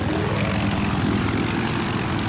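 A helicopter engine and rotor in a video game drone steadily and loudly throughout, a dense continuous whirring roar with a fast rhythmic chop underneath and no talking.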